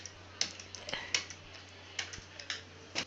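Several separate key presses on a computer keyboard, the Enter key struck repeatedly while moving through ledgers in accounting software; crisp close clicks spaced irregularly over a faint steady hum, with no voices.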